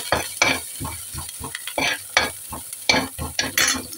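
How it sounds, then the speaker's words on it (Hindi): Spiced masala with salt, red chili and turmeric sizzles in a pan while a spoon stirs it in repeated scraping strokes, each stroke bringing a short burst of crackling frying, close and clear with no talking. "इसे भून लेंगे।"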